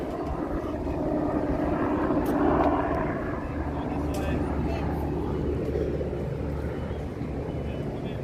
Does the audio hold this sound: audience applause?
no